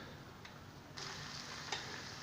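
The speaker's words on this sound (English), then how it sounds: "I'll just give these a wee fry, a wee bit of garlic in there" Onions and garlic frying in sausage fat with no oil, a soft steady sizzle close by, with a few faint clicks and a slight rise in the hiss partway through.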